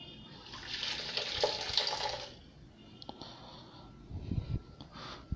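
Chicha morada, a purple corn drink, being poured into a glass, a short splashing pour that fades into faint bubbling and small drips.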